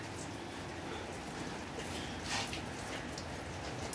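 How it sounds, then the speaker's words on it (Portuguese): Steady rain falling outdoors in Curitiba, a continuous soft hiss of drops spattering on surfaces, even and moderately close with no one talking. "Chuva, né?"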